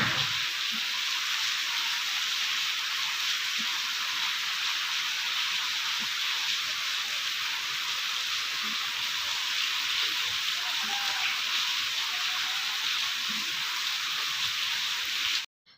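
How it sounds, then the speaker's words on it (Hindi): Steady heavy rain pouring outside in the early morning, a dense continuous hiss close by and loud throughout, with no voices over it. "चलो मैं आप लोगों को बारिश दिखाती हूँ"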